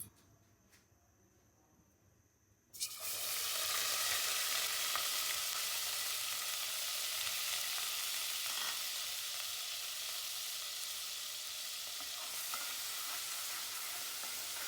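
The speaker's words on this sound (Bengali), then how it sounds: "পেঁয়াজ বাটাটা একটু ভাজা হলে পরবর্তী মশলা দেখাচ্ছি।" Onion paste sizzles and fries in a hot pan, a loud steady hiss that starts abruptly a few seconds in after a quieter opening, with no talking.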